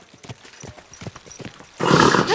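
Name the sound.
horse hooves clip-clopping, Kingdom Come: Deliverance II video game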